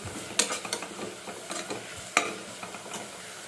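Ingredients for palak paneer rice fry in a pan until soft, with a steady sizzle under repeated close scraping and clinking stirs, two sharper spoon knocks standing out; no voices.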